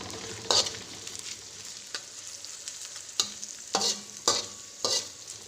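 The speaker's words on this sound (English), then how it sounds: "Let it fry until our onions become soft and the smell is coming out." Onions and spices frying in a pan for chicken varuval give a steady quiet sizzle, with several short bright bursts of stirring scattered through it and no voices.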